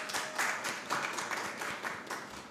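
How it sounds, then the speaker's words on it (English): Faint, distant applause from an audience at a moot court debate between teams, with soft scattered clapping in an irregular rhythm across a short stretch. "Let's give the teams a round of applause."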